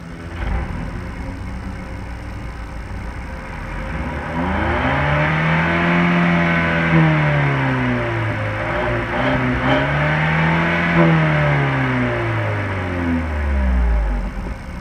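A 2018 Mercedes-Benz CLA250 4Matic with a 2.0-liter turbocharged inline-four and seven-speed dual-clutch automatic runs steadily, then revs up and down in several rising and falling sweeps, loud and close with a constant whirring drone.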